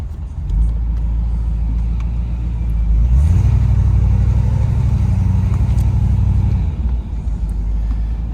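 1984 Chevrolet Corvette Z51 driving on a road, a loud low engine rumble that rises as it accelerates, holds steady, then eases off, with no voices.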